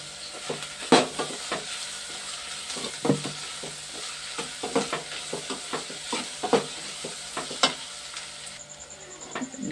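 Onion pieces fry in a pan with a steady sizzle, broken by a run of sharp utensil scrapes and taps as they are stirred, close and fairly loud with no talking.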